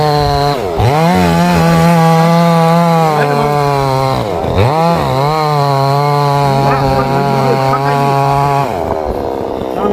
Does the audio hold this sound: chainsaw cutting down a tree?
yes